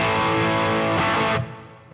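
A single driven electric guitar chord rings out through a Matchless Independence 35 amplifier on its gain channel, sustaining loudly before a quick change in tone and a fading decay.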